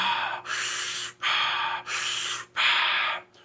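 Wim Hof method breathing: three strong, forceful breaths taken close up, each roughly a second long, with short pauses between them and a faint fourth breath at the end.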